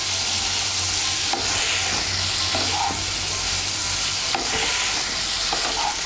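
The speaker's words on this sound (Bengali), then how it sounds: "এখন আঁচটা বাড়িয়ে দেব, বাড়িয়ে দিয়ে একটু নাড়াচাড়া করে নেব।" Cauliflower and spices fry in a pan over raised heat while being stirred, a constant loud sizzle with scraping stir strokes and a low burner hum underneath, no one speaking.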